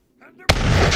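A sharp, loud gunshot from the battle game Totally Accurate Battle Simulator bursts in after some faint murmuring and rolls on as a dense booming roar, like artillery fire.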